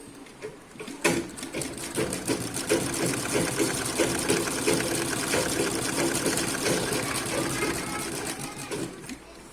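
A sewing machine stitches a cross cut blouse up close, a loud, continuous, rapid needle chatter that runs unbroken from just after the start almost to the end.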